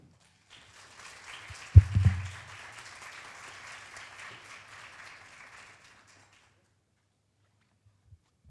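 Moderate conference audience applause rises, with a couple of low thumps near the start, then fades out gradually over several seconds into silence.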